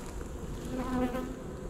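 Honeybees buzz around Apimaye beehives during a hive treatment, a steady, moderately faint droning hum with a slightly brighter swell near the middle.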